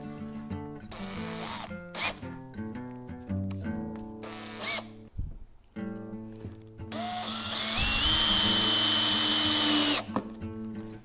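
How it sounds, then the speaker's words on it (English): A cordless drill whirs in repeated short bursts as it drives screws into a wooden sawhorse, with clicks between runs and one longer, higher-pitched sustained spin near the end. "Now I can just take my battery drill"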